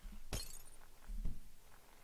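In a video game, glass breaks in two sharp crashes about a second apart, the first loud and bright, the second smaller with a short tinkling tail.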